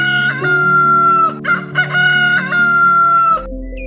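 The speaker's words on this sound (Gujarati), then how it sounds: "આમ કહી મરઘો એક ટેકરા પર ચઢ્યો અને બાંગ આપી" A rooster climbs a mound and crows loudly and clearly, one long drawn-out cock-a-doodle-doo up close. It sounds like a produced animated story soundtrack.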